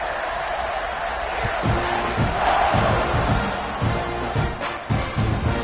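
Stadium crowd cheers during a football kickoff, a loud sustained roar that swells and surges with sharp bursts of yelling and whoops.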